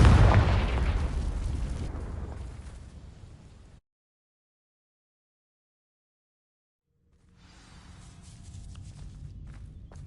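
A Confringo fire spell goes off in Hogwarts Legacy as a loud, booming blast that fades over several seconds, then a stretch of silence, then a softer rumbling, crackling swell.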